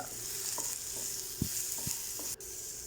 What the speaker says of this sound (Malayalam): എല്ലാം നല്ല മൊരിച്ചെടുക്കുക